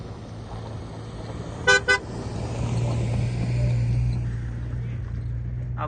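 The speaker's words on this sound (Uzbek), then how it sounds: "Bu akalar ham o'zini mashinasida chiqib kelishyapti." A car engine hums steadily as the vehicle climbs a mountain road, with two short horn toots early on and the motor swelling slightly louder before easing off.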